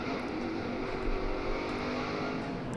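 Race cars at the Bristol night race drone in a continuous engine roar, one steady, fairly loud wash of motor noise with no talk.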